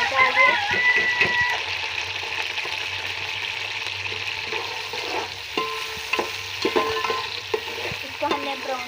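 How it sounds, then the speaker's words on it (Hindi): Chopped onions hit hot oil in a pan for a chicken and green bean dish, with a steady sizzle and clatter from stirring. A voice talks over the frying now and then. "ये देखिए, आयल जो है वो अच्छे से गर्म हो चुका है। बस मैंने प्याज डाल दिया।"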